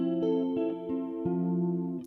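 Sustained electric guitar notes and chords ring out with a shimmering chorus effect, changing pitch a few times, with no talking.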